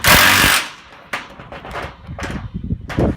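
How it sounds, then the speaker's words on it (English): A wrench tightens the bolts on a CA5000 water tank during assembly: a loud metallic rasp first, then a series of irregular clanks and ratcheting knocks close by, with no talking. "We're going to get our wrench. We're going to start from the bottom here. We're going to work our way up and tighten all the bolts up."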